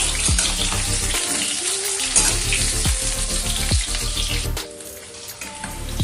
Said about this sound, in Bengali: নুন দিয়ে সেদ্ধ করা আলুগুলো এবার এর মধ্যে দেব কিছুক্ষণ নেড়ে নেবো